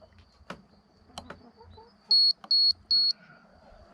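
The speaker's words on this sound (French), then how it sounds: "je vais lancer les 3 bips comme si j'avais une tension basse batterie" Three loud, evenly spaced electronic beeps from a DIY chicken coop door controller signal a simulated low-battery test, standing out sharply after a few faint knocks and handling noises.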